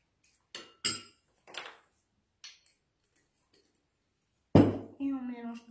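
A spoon scrapes and clinks against a bowl while sushi salad is mixed with teriyaki sauce, a few sharp separate taps near and clear, followed by a voice speaking.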